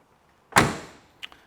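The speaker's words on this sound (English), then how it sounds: "Door shuts good." A 1977 Chevrolet Corvette door swings shut with a single solid, close thunk, followed by a faint latch click.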